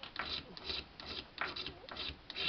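A metal fire steel scraper shaves flakes from a magnesium block, giving repeated close rasping strokes in a steady rhythm of about five short scrapes.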